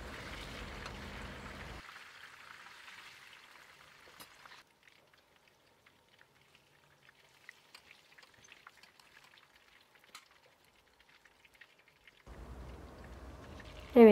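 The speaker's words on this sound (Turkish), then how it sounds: "kızartma işlemine devam ediyorum" Steady crackling sizzle of minced-meat-filled pişi dough frying in oil, loud at first, then dropping to faint scattered pops for several seconds before the sizzle swells again.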